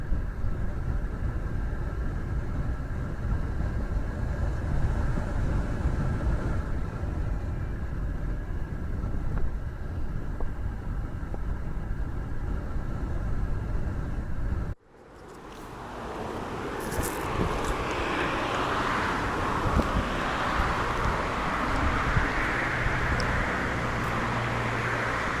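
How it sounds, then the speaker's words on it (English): Steady rushing wind and road roar from a motorbike riding toward a mountain near Nha Trang, Vietnam, a sharp drop midway, then the rumble builds back up as the ride continues. "about a 30-minute ride by motorbike, and so that's what we're doing"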